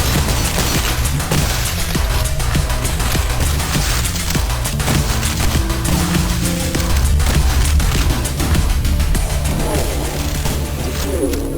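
Brutal, crunchy weapons fire in the retro shooter Cultic, dense and continuous, with heavy low booms and sharp percussive hits layered under music and a voice talking throughout.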